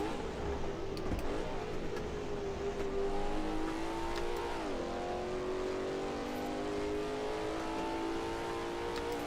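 Ford V8 race car engine in Assetto Corsa revving steadily and holding a loud, continuous note, with the pitch dipping and climbing through gear changes around the midpoint and a brief scrape of tyre noise early on.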